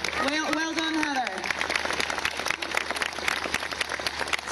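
Audience applause at a horse show arena, broad clapping from a large crowd at a distance, sustained for several seconds while a voice speaks over the opening moments.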